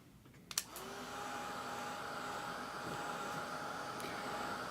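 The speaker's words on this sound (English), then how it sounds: "Let me go ahead and put the blow dryer on." A blow dryer clicks on and runs in a steady, loud whooshing drone while drying a watercolor painting of morning glories on paper, with no talk over it.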